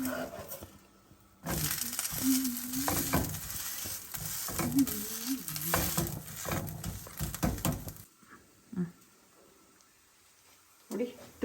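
Ragi rotti with vegetables cooks covered on a hot pan in a home kitchen, giving a steady sizzle and crackle that runs beneath a person talking, then fades to near quiet with a few light clinks.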